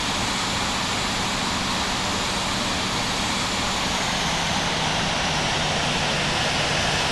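Airliner jet engines on takeoff in the Infinite Flight game make a loud, steady broadband roar with a thin high whine, continuous and unbroken throughout with no speech.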